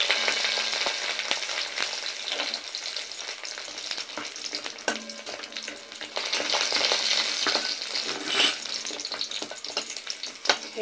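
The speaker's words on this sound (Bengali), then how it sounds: "তো বড়িগুলো একটু লাল করে ভেজে নেব।" Lentil badi, dried dumplings, frying in oil in a kadai, with a steady dense sizzle and occasional stirring scrapes running continuously without talk.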